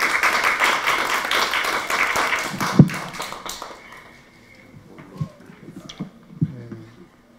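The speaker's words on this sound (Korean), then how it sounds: "여러분 큰 박수로 부탁드립니다." Applause from a forum audience on the reduction of sodium and sugars in processed foods: dense, steady clapping for about three seconds, then fading into scattered claps and light room noise.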